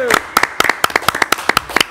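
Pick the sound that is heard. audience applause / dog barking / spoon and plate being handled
audience applause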